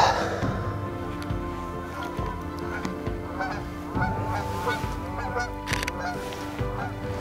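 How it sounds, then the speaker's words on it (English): Canada geese honk repeatedly in a loud, overlapping chorus, with a steady hum of a nearby factory in the background. "So there's a lot of geese out right now."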